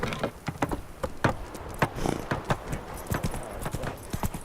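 Hoofbeats of Roach, the horse in the video game The Witcher 3, clopping at a steady walking rhythm, close and fairly clear, with faint background ambience.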